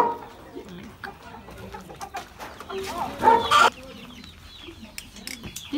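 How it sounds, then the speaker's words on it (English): Chickens clucking close by among other farmyard noises on a farm, with a louder burst of squawking in the middle and faint voices in the background. "The big chicken."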